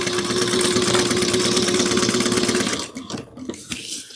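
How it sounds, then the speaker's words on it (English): A sewing machine runs a fast, steady buzz while top stitching side seams of a drawstring satchel, close and loud, then stops abruptly into a few clicks and handling sounds. "So we're going to top stitch 1/8 of an inch down each side seam."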